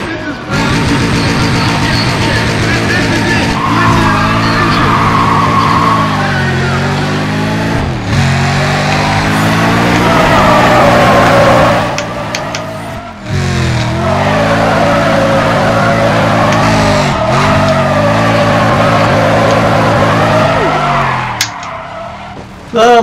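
Cars drifting in Need for Speed ProStreet at the Autopolis track, loud engines revving and whining through long slides with repeated tire squeals, dropping and climbing as the cars shift through turns, with talk heard faintly beneath.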